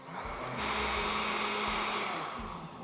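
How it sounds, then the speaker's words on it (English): A kitchen blender whirs through lemon juice, lemon zest, sugar and eggs for lemon curd, a faint high-pitched motor whine that ramps up, holds steady for about two seconds, then eases off. "Now with the blender running,"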